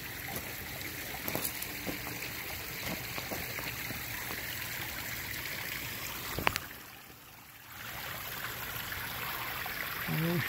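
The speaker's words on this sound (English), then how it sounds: "Stream's looking nice and clear" A clear garden pond stream flows steadily throughout, a continuous broadband wash of running water with a brief dip partway through before the steady flow resumes, heard close with no talk.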